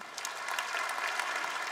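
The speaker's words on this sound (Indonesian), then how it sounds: "Berikan tepuk tangan untuk Tuhan." A congregation applauding at a Christmas worship service, a soft, even wash of many hands clapping that sounds somewhat distant and faint.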